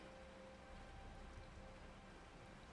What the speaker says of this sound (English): Only the sound of the rain, fading, fading.